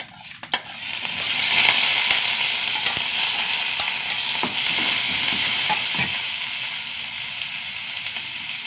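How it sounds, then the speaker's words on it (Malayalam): Mustard seeds and crushed spices sizzle and crackle in a little hot coconut oil, a steady, fairly loud frying hiss with scattered pops and occasional stirring clinks, no talking. "കടുക് ഇട്ട് കൊടുക്കാം. ചതച്ച് വെച്ചത് ഇട്ട് കൊടുക്കാം കേട്ടോ."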